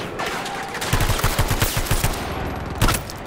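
VHX gun tap-firing in a video game: short bursts of rapid, punchy shots in quick clusters, loud and close, with a brief pause before a final heavy shot.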